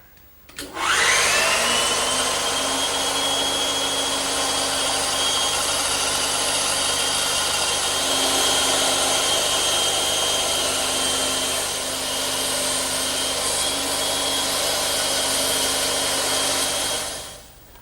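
A saw rips through expensive teak freehand without a rip fence, starting with a sudden whine and holding a loud, steady, high-pitched cutting drone for about fifteen seconds before it stops abruptly.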